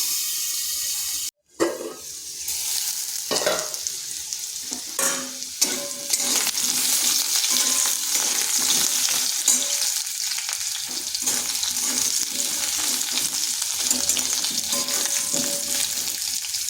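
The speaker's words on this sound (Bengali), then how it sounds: "আলুটাকে এভাবে একটু লাল লাল করে ভেজে নিচ্ছি।" Potato pieces fry in a pan, a loud, close, continuous sizzle that starts after a brief clatter and carries on without talk.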